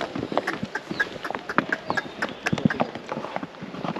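A horse carries a rider on a mountain trail ride through Baisaran Valley near Pahalgam, Kashmir, hooves clip-clopping steadily and close amid outdoor noise, with faint voices in the background.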